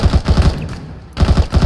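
Machine gun fire in the video game Arma 3, loud rapid bursts of close automatic shots in a steady rhythm, breaking off for a moment of quieter fading echo before another burst starts.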